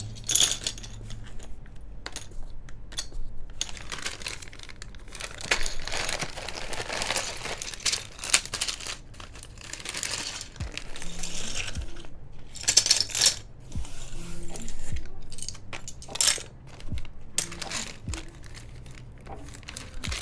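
Keycaps are pried off a mechanical keyboard during a Pixelspace Capsule build, a run of sharp plastic clicks and rattles scattered over twenty seconds, close and fairly loud with handling noise between.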